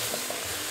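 Chopped onion, carrot, bell pepper and garlic are stirred in a pot, with a brief scraping shuffle over a soft background sizzle and a sharper scrape near the end.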